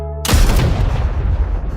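A single loud gunshot cracks out close by in a tense tabletop gamble with a 50-50 chance of a live round, its sharp boom decaying into a long rumbling tail with no other sound.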